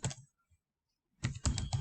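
Quick keyboard typing in MS Word comes in two short bursts of rapid key clicks, separated by a brief silent pause, close and fairly clear.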